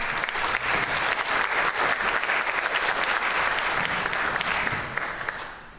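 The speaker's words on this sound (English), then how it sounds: "give the MCHS Jazz Band one more round of applause" Loud, full applause from parents and guests at a high school National Honor Society induction, honouring the MCHS jazz band, steady dense clapping that tapers off near the end, with no speech over it.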